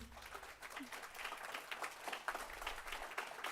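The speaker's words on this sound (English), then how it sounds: "We would appreciate a few louder claps." Audience applause at a young authors' book launch event: steady, dense clapping from a crowd indoors, continuous and fairly even throughout with scattered sharper claps.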